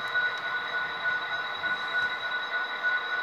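A model Conrail train runs along its track with a steady, fairly quiet rolling hum and a faint high-pitched whine, heard on its own.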